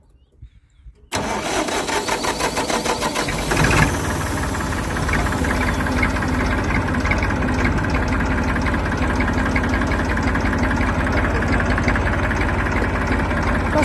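An M100 tractor engine, just fitted with a repaired starter motor, cranks and catches after a second of near silence, then settles into a loud, steady, slightly knocking idle with a brief surge around the start.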